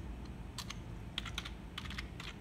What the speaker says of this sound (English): Now you're gonna type fast boot